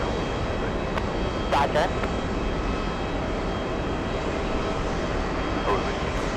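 A JetBlue jet airliner taxiing across a runway at JFK, heard as a steady, loud engine roar from nearby, with a brief radio voice cutting in over it.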